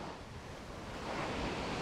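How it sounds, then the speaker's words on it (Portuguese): Sea waves wash in under strong wind, a dense, continuous roar of surf and wind buffeting on the microphone that swells slightly toward the end. "O mar está a vento."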